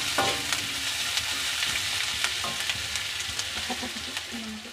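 Sliced onions sizzle steadily in a hot pan for a Bengali chicken kosha, with repeated spatula scrapes and clicks breaking through the continuous frying hiss, close and fairly loud, with no talking.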